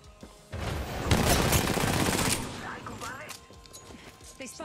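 Rapid bursts of automatic gunfire from a video game shooter, loud and sustained for a couple of seconds before tapering into scattered shots and effects, with a player's voice talking over it.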